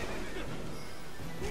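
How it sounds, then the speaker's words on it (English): A horse neighs in the video game Stranger of Paradise Final Fantasy Origin, a faint whinny heard amid steady game ambience with no talking. "I heard a horse, guys. Anyone else hear that horse?"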